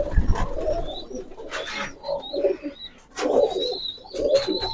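High flyer pigeons coo at a pigeon farm, soft throaty murmurs repeating in overlapping waves, with a few brief whistles and flutters nearby.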